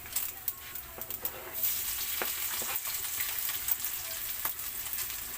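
Garlic fries in a pan alongside meat for pinakbet, giving a steady close sizzle with occasional stirring clicks and scrapes, and the frying grows fuller after the first second and a half.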